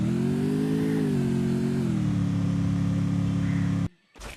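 Motorbike engine in the Free Fire video game revving steadily with a droning, slightly falling pitch, loud and close, cutting off abruptly near the end.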